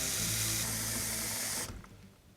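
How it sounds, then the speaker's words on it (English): Tap water pouring into a plastic bowl to fill it about half full, a steady close hiss and splash that stops abruptly near the end, leaving a faint fading drip. "Fill it about half full of water."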